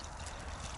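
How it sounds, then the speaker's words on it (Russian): Water pours from a bottle into a small pot, to be heated for instant noodles on a road trip. A brief, soft, steady trickle, close but quiet, with no talk over it. "водички наливаем"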